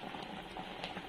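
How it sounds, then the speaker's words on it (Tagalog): A pot of water bubbles at a steady rolling boil, a continuous close hiss with soft popping, no talking. "kumukulo na"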